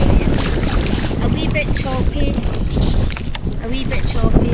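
Wind buffets the microphone while choppy water slaps and splashes around a kayak off Erraid; a voice speaks briefly in the background.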